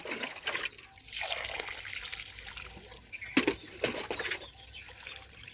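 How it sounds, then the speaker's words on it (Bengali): Water poured from a bucket over rice in a perforated basket, giving splashing, trickling gushes that swell and ease, with a louder splash in the middle, close by. "এখন দেখুন এইভাবে 2 বালতি জল আমি টকার মধ্যে এইভাবে দিয়ে দেব"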